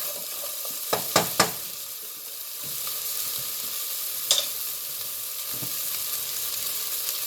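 Ground meat for taco empanadillas frying in grease in a pan, a steady bright sizzle throughout with a few clicks and knocks of stirring.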